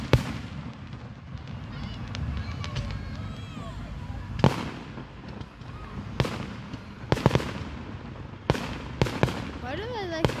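Australia Day fireworks bursting at night, sharp booms and crackles spaced irregularly over a steady background rumble, with people talking throughout.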